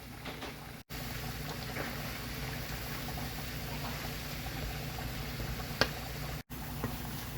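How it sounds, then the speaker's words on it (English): Liver frying in grease in a pan, a steady dense sizzle and crackle running throughout at an even level, with a couple of brief dropouts and one small pop. "This liver has been cooking for about 5 minutes."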